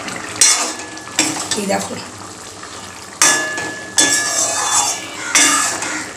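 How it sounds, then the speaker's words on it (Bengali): Pointed gourd and potato curry cooks in a pan, with sharp metal clinks and scraping from stirring cutting in at intervals over a soft simmering bubble; a voice speaks briefly. "দেখো পটল আলুর তরকারিটা ফুটছে,"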